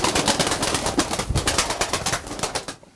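Pigeons kept by a Turkish pigeon fancier coo steadily in a loft, a dense run of overlapping soft calls close to the microphone with no one speaking.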